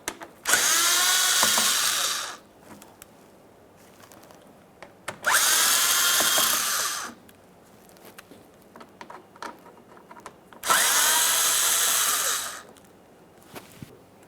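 A cordless power drill backs out Phillips head screws holding a radiator on a 2009-2014 Nissan Maxima 3.5L V6, three loud sustained whirring bursts separated by quiet pauses with small clicks and handling noises.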